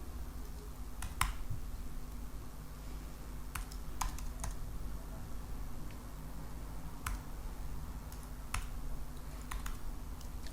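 Typing on a computer keyboard while entering dates into spreadsheet cells, sparse separate key presses and taps spread over ten seconds against a steady low hum, with no speech.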